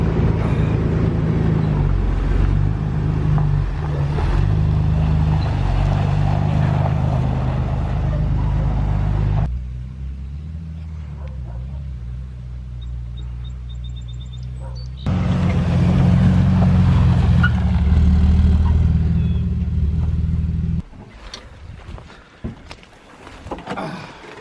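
A lifted 2006 Jeep Wrangler TJ on a test drive gives a loud, continuous engine and road rumble inside the cab that drops quieter twice between driving stretches, with faint sounds in the lulls.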